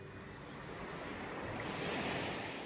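Ocean surf rolls steadily onto Long Beach at Koh Lanta, Thailand, a continuous nearby wash of breaking waves with light wind noise and no voices.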